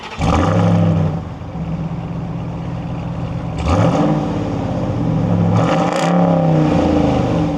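A 702 hp Ram pickup truck's engine fires up and revs, a loud, deep, continuous rumble with two swelling revs that rise and fall, heard close and alone.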